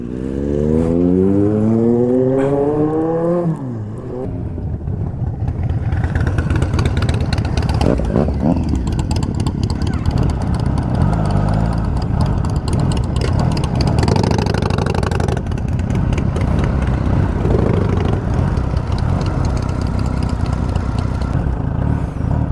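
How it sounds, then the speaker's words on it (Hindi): A superbike riding on a helipad in Tehri rises through several gear changes with rising pitch, then settles into a loud, rough, sustained engine roar close by. Some faint wind noise runs underneath. "हेलीपैड में बाइक चलाते हुए"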